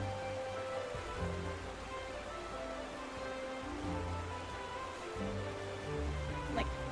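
Rain falling in Final Fantasy 14 played in VR, a steady soft hiss of raindrops under continuous game music and ambience, with no clear speech.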